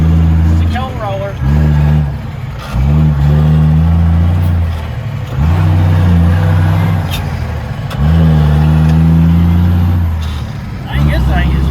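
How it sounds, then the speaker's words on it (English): A Ford L9000 truck driving with its engine droning loudly, gears grinding and engine pitch shifting between steady stretches; a voice talks over it. "Whoa, grinding the gears."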